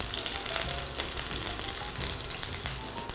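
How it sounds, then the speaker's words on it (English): Slices of acorn squash fry in hot oil in a pan, giving a steady close sizzle and hiss with light spattering as a spatula turns them over. No one speaks. "Once they've cooked for about 5 minutes, we're just going to flip them over with our spatula."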